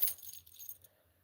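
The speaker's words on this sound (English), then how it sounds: "with a bunch of fucking keys." A bunch of keys on a lanyard jingles in a quick, bright burst that tapers off within about a second, close by and faint, with no voices.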